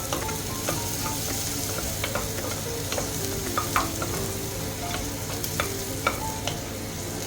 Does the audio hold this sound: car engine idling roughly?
no